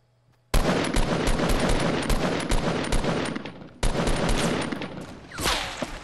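Rapid automatic gunfire in the Fortnite battle royale video game, loud dense bursts of shots, a short break, then another long volley tailing off, with no talk over it.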